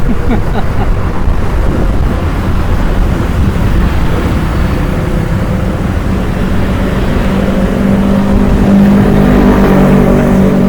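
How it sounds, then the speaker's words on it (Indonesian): Strong wind roars and buffets the microphone nonstop aboard a tugboat towing a coal barge on the Mahakam River, a loud, rumbling low blast with the engine droning faintly underneath. "Kamera kita goyang nih kena angin kencang."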